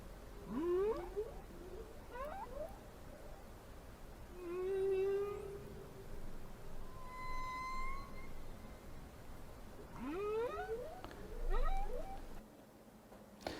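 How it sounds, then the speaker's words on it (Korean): Recorded calls from several whale species: rising and falling moans and whistle-like sweeps that repeat in separate bursts, with no talk over them. "여러 종류의 고래들이 각기 다른 소리를 내고 있는 것을 알 수가 있습니다."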